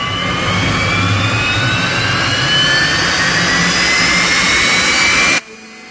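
A Reaction Engines pre-cooler test firing for a Skylon engine roars as a loud, steady, jet-like blast with a faint rising whine inside it. The noise cuts off abruptly near the end, leaving quiet.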